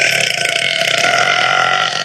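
A single loud, drawn-out burp lasting about two seconds, close and alone, tailing off abruptly at the end.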